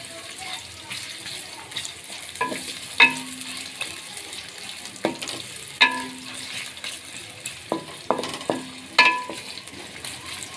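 Onions fry in a pot holding 1.5 cups of oil for village-style aloo keema, a quiet bubbling sizzle with periodic metallic clanks and scrapes of stirring.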